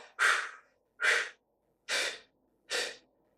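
Four forceful breaths pushed out through the nose during a yoga exercise, each one sharp and about a second apart, close and alone in an otherwise silent room.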